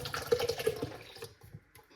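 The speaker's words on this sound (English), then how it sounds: "I'm going to pour in the can of leche de coco" Coconut milk glugs and splashes as it is poured from a can into a bowl of raw vegan ingredients, the pour tapering off and quieting by the end.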